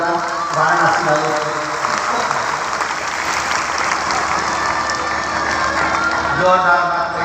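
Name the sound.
audience clapping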